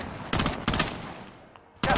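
Gunfire in the Warzone video game: three sharp bursts of rapid shots in quick succession, loud and close, with no voices over them.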